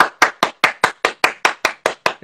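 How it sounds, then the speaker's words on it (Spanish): About ten sharp hand claps in a quick, steady rhythm, close and clear with no other sound. "Yo que te quiero dar un aplauso de acá"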